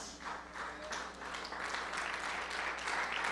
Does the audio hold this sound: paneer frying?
no